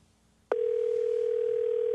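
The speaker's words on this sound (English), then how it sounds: "You can hear it ringing." A telephone tone on a call to the Homeland Security hotline cuts in sharply after a quiet moment and continues as a loud, even, unbroken tone.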